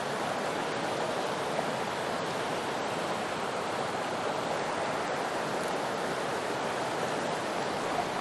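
A Smoky Mountains creek flows steadily nearby, a broad, constant rushing wash of water with no pauses or voices.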